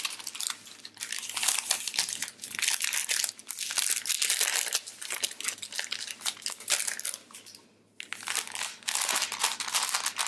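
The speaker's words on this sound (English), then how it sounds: "I'm just gonna take my little piece of parchment paper, slide it into the slipper" Parchment paper crinkles and rustles close up as it is slid into a knit slipper, in continuous bursts of crisp crackling with one brief pause.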